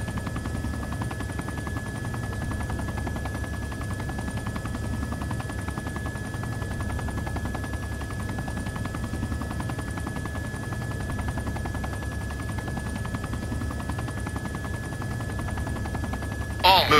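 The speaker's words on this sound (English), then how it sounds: "Bring the chopper to a halt and try hovering for a while." A helicopter hovers steadily in the video game Arma 2, a constant low rotor drone with a sustained mechanical whine running unbroken throughout.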